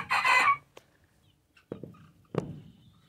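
A short, high bantam rooster crow rings out close by, followed after a pause by a few sharp clucks.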